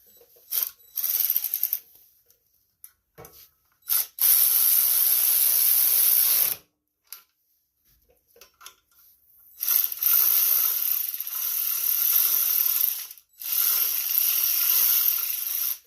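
Ratchet clicking in several sustained bursts while tightening bolts on the EFI fuel pump of a 2019 Hustler zero turn riding lawn mower with a Briggs engine, close and loud, separated by short pauses and small clinks.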